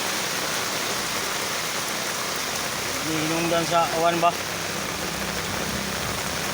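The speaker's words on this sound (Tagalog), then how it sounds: "kusog yung ulan ba?" Heavy rain hisses down steadily and evenly while someone briefly speaks over it partway through.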